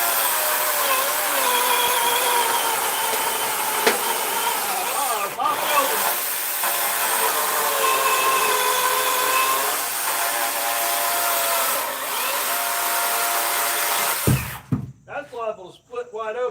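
A DeWalt FlexVolt battery chainsaw with a 20-inch bar cuts through a log, a loud, steady high whine biting into wood for about fourteen seconds before it cuts out, followed by brief rustling.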